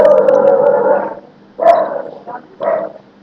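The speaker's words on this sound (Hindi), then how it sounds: "डॉगी भौंक रहा है" A dog barks and growls indoors, a sustained rough growl-bark followed by two shorter barks after a pause, fairly close and loud, no talking.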